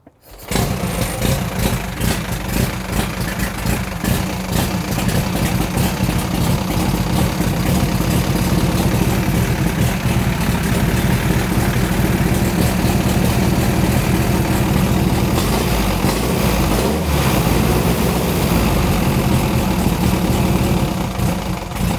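A 1929 Henderson KJ motorcycle engine running on a cold start after a single kick, a loud, steady, close idle with a continuous rough mechanical rattle and no talk.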